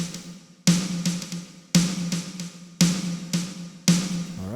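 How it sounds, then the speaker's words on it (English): Snare drum hits in a steady pattern, each crack followed by a long ringing reverberant tail from a reverb plugin that fills the gaps between strikes. "The reason for this reverb plugin is so that snare will have a little bit more ring to it."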